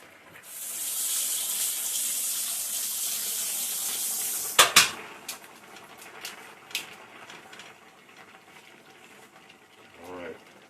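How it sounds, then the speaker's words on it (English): A kitchen tap runs loud and steady for about four seconds while something is rinsed under it. Then it shuts off, followed by a few clanks, and a voice comes in briefly at the end. "I'm going to rinse this off."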